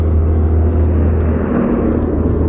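A car passes on a road in Ogan Ilir, heard as a loud, steady close rumble and whir of engine and tires that holds through the whole stretch.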